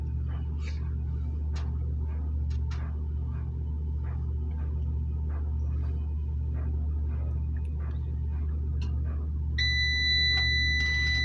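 A kitchen timer goes off while pasta cooks for a pasta salad, its steady electronic beeps starting near the end over a constant low hum and faint kitchen clatter.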